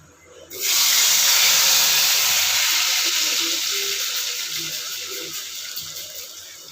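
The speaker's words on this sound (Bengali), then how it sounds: "এই তেলটা পুরোটাই এটার মধ্যে ঢেলে দিচ্ছি।" Oil poured all at once into papaya chutney in a hot pan gives a sudden loud steaming hiss and sizzle that slowly fades over several seconds, with no talk.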